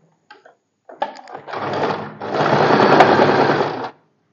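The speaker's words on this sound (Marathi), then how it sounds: "तर मी खालून वर इथे स्टिच करून घेते" Sewing machine stitching layered fabric for a four-tuck blouse: a couple of short hesitant starts, then a steady rapid whirring run lasting about two and a half seconds, close and loud.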